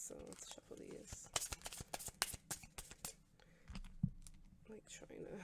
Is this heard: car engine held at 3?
no